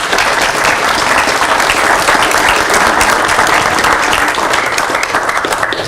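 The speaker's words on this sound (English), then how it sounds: "how about a round of applause for our natives?" Loud, sustained applause from a crowd at an outdoor living-history heritage event, many people clapping steadily and densely throughout without a break.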